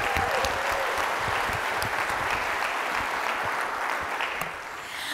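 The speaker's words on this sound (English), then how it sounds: "let's give them a big round of applause" Sustained applause from an audience at the Hancock Honors 2024 evening event, a dense, steady wash of clapping that holds even for about five seconds before easing slightly near the end.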